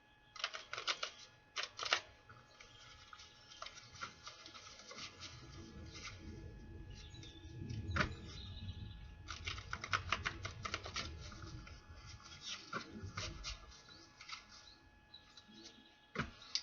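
Tarot cards are shuffled close up in crisp, rapid riffling bursts with softer sliding and tapping between them, fairly quiet throughout.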